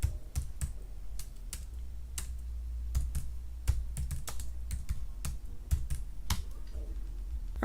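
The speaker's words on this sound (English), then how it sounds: "I type in license plate." Steady typing on a computer keyboard at a desk, entering product details for a sublimated license plate; irregular clicks of keys close and clear, with no talking.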